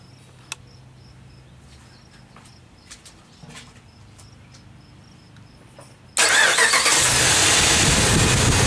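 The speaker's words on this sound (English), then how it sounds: "we're going to start the engine" A car engine starts abruptly after a quiet stretch with faint clicks and insect chirps, the cranking catching at once into a loud, steady running roar that continues to the end.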